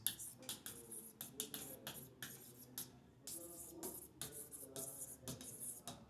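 Chalk or marker writing on a board in a biology class, with rapid scratchy strokes and short taps in bursts, close by and moderately loud, with no voice over it.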